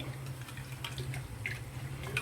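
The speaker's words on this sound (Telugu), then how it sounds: "జార్లో కొన్ని నీళ్ళు పోసుకొని దాంట్లో పోసుకోవాలి" Water from a jar trickles into masala in a pan while making paneer masala, a soft steady pouring and splashing with faint drips, close and alone under a low hum.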